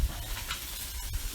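Pieces of food sizzle steadily in a Dutch oven as they are flipped, a constant close hiss and crackle with soft scraping and stirring sounds and a couple of small clicks.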